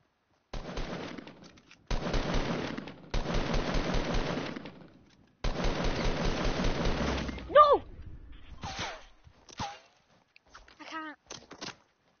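An AR fired in a video game, several long rapid-fire automatic bursts with short gaps between them, loud and close, followed by scattered thuds and clicks as a voice talks.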